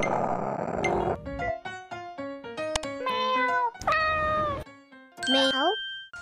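A cat gives several drawn-out, sliding meows one after another after a brief burst of noise, loud and close, with short gaps between calls.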